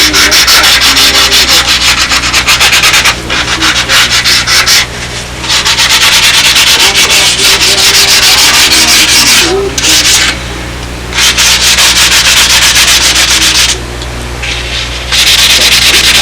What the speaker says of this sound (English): What we're doing is truing up these edges, setting the parts aside.